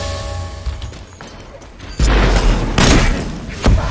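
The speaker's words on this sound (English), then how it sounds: "Shotgun blast to the face." Shotgun blasts in the video game Smite, several loud booming bursts with crashing impacts amid busy game effects, close and forceful.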